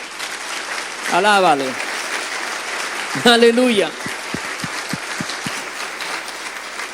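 A church congregation claps in a sustained wash of applause that runs under a preacher's shouted, sung praise, with a few sharper individual claps near the end.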